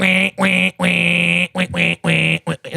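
A voice imitates a duck quacking as a fart, a run of loud, nasal, buzzing quacks in quick uneven bursts, close and alone.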